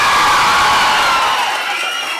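A large audience in a lecture hall cheers and shouts, a loud, dense wall of crowd noise that holds steady for a couple of seconds and then eases slightly.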